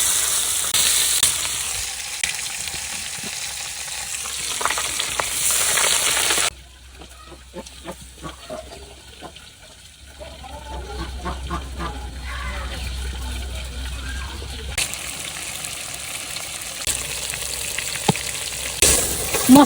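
Fish, including rohu, sizzles as it fries in hot oil in a village kitchen, giving a steady hiss with bubbling and occasional stirring clatter; the sound shifts partway through as the pan activity changes.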